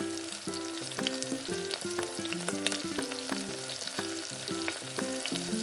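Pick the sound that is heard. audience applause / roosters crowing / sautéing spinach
sautéing spinach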